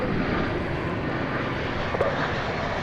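A jet airliner from Durango lands at Dallas Fort Worth airport, its engines making a steady, broad roar that stays fairly loud and even throughout, heard without voices.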